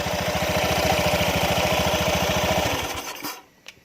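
An automatic scooter engine idles with a steady, fast putter for about three seconds, then is switched off and sputters down into near silence, leaving only a faint click afterward.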